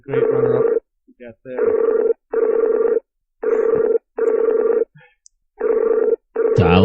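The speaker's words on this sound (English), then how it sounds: "AT&T Dial a friend." Telephone dialing and ringing on a radio show's call-in line, a series of loud evenly spaced electronic rings with short gaps between them, close and clear, with a brief voice at the end.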